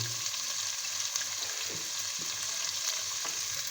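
Chicken frying in a pot with turmeric and garlic cloves for desi chicken yakhni soup, a steady crackling sizzle throughout with a few louder pops and stirring scrapes, close and continuous without talk.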